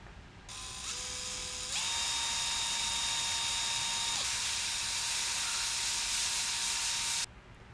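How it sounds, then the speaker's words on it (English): A step bit drills out a hole wide enough for a tug shaft while fitting a tow strap, a continuous high-pitched motor whine that steps up in pitch as it spins up, holds steady for several seconds and cuts off abruptly. "we're going to go ahead and use this step bit here and get this drilled out big enough so that the tug shaft can fit through the hole"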